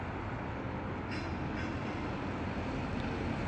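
The Big One roller coaster train at Blackpool Pleasure Beach running its return leg on newly laid track, heard as a steady, faint rumble with no talking.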